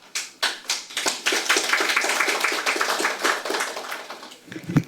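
Audience clapping at a panel discussion in a Korean National Assembly hall, starting as scattered claps and swelling into dense, steady applause over several seconds.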